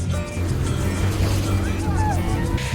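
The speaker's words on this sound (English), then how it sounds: "We're just having a drive along the main road" A car drives along the main road in Port Vila, Vanuatu, its steady low engine drone and road rumble continuous throughout, with voices talking faintly over it.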